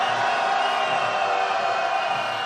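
A crowd at a street rally for a presidential impeachment in Seoul's Hongdae district shouts and cheers in a continuous roaring wash.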